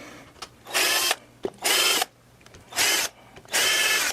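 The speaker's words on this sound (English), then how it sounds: "So we have to drill a few new holes." Four loud bursts of a power drill biting into a wooden guitar body, each about a third of a second long, separated by short quiet gaps with faint handling noises.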